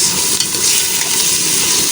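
Loud, steady sizzling of chicken frying in a hot pan over a used-oil stove, a continuous crackling hiss close by.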